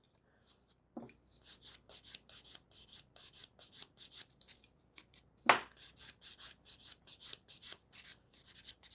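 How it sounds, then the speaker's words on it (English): A natural fingernail being filed after gel extension removal, with quick, close, dry rasping strokes in an even rhythm and a sharp knock partway through. "That's me filing on the natural nail."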